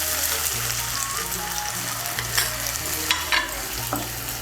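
Cumin and coriander spice paste tipped into tomatoes frying in a pan for a banana-flower ghonto, producing a continuous close sizzle with scraping stirs and a few sharp spatters.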